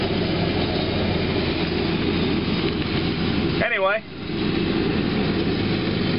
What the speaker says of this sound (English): wait for that tractor to go by so maybe you can hear me.